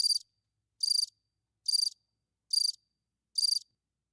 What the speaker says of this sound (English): Cricket noise.